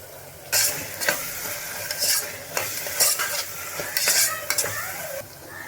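Masala sautéing in a pan for goat head meat curry, with a spoon stirring and scraping in repeated loud strokes over a steady sizzle; no talking.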